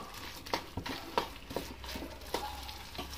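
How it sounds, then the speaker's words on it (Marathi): Semolina and potato being stirred in a hot pan while cooking, giving a steady soft sizzle broken by several distinct spoon scrapes and taps against the pan, close and fairly quiet. "हे सतत हलवत राहायचं रवा टाकल्यावरती, म्हणजे ह्या रव्याच्या गाठी होणार नाही।"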